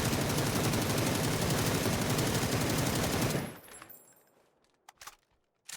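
Rapid automatic gunfire from a first-person shooter video game while the player controls recoil, a loud continuous burst of shots lasting over three seconds, then cutting off to a few faint clicks and rattles.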